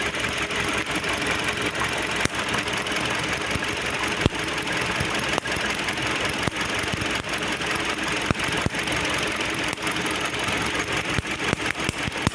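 A Chinese-built Volkswagen engine idles with a steady, loud mechanical drone, while a rhythmic knock from the faulty gearbox ticks through at regular intervals, with no talk over it.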